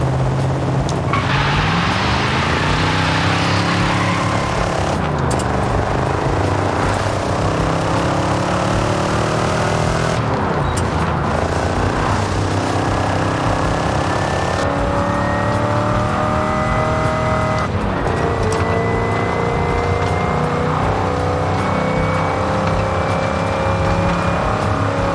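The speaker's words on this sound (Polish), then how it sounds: "Posłuchajcie przy okazji, jak fura brzmi na postoju" A car engine idles steadily in the video game Forza Horizon 5, a low continuous hum with rising whistling overtones layered on top, fairly loud and without voices.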